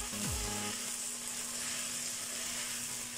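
Sliced carrots and long-cut onions frying in a pan for chicken chow mein, a steady, close, even sizzle throughout with a faint tonal hum underneath and no voices.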